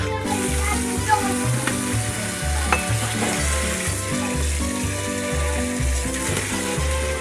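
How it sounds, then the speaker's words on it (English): Food sizzling and crackling steadily in a hot pan, with a low rhythmic thumping in the background throughout. "You'll hear it start to sizzle in a minute."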